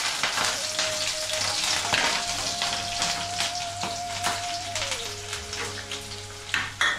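Mustard seeds, curry leaves and green chilies hit hot oil with a busy crackling sizzle full of sharp pops and spits, steady and close throughout, with a faint thin whine running underneath; no talking.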